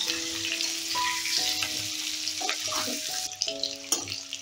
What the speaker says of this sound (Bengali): এবারে লাল লাল করে আলুটা ভেজে নেব।